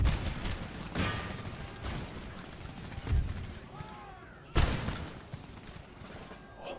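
Artillery and musket volleys in the strategy game Empire: Total War boom and crack at intervals over a busy battlefield ambience, with a few sharp reports standing out from the rumbling background.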